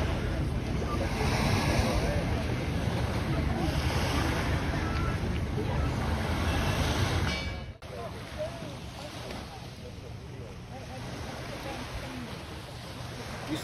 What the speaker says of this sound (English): And that is the beach in Monterosso.